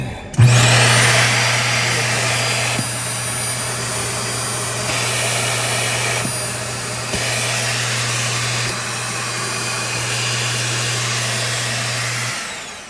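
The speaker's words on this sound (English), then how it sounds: "Central vacuum." A central vacuum system motor in an IBEX 19RBM travel trailer starts suddenly and runs loud and steady with a constant whine and rushing air. It stops abruptly near the end.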